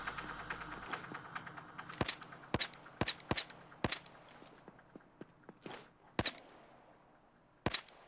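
Gunfire in the Payday 2 bank heist, heard as a string of sharp, separate shots spaced irregularly, with quieter clicks and movement sounds in between. The shots are moderately loud and come in short bursts, with no speech.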